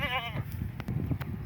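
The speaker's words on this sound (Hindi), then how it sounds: "देखो भाई 3 नंबर पे बकरा आ गया" A Makhi Cheena goat on a Pakistani goat farm gives a short wavering bleat, followed by faint farm noise and scraping.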